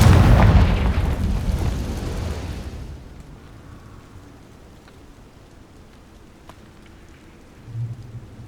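A Confringo fire spell from Hogwarts Legacy goes off as a loud, rumbling blast that roars for a few seconds, then decays into a quiet, crackling tail with a faint late thump.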